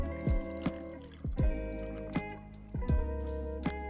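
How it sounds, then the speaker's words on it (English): Liquid splashes and trickles in a few short bursts as a cocktail is dump-poured over crushed ice close by, with a wet, dribbling quality and quiet pauses between. "So I'm gonna dump pour this onto our crushed ice."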